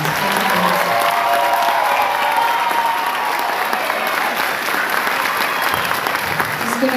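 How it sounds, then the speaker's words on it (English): Sustained applause from a school concert audience for a middle school band at a winter holiday concert, a dense, steady clapping that holds evenly throughout with a faint crowd murmur beneath. "Let's give one more round of applause to the Colt Band."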